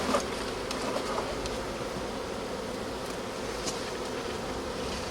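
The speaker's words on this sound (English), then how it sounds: "And these bees I'm just going to shake off into the air, and they will beg their way back into this hive." Honeybees buzz in a dense, continuous drone during a newspaper-method merge of two nuc colonies, steady and close throughout with no pauses.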